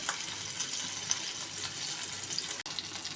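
Semolina-coated bangda and dhomi fish frying in a pan, a continuous bright sizzle and hiss with faint pops, close and steady.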